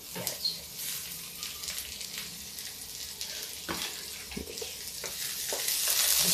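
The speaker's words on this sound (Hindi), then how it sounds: "इसको हम भूनते हैं।" Onion frying in a hot pan on a gas stove, a steady soft sizzle with occasional stirring clicks, moderately quiet and heard alone with no talk.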